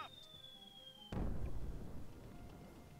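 A bomb blast in the WWII aircraft-management game Until the Last Plane: after a descending whistle-like tone, a sudden loud, deep boom hits and rumbles away over the next couple of seconds, fairly close and alone.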